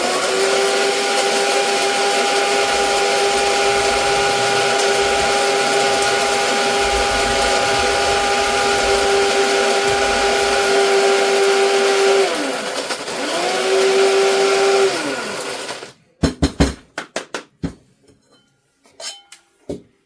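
An electric grinder pulverizes dried homegrown turmeric in a kitchen, a loud steady motor whine running for about fifteen seconds with a short dip in speed, then stopping and giving way to several sharp clattering knocks.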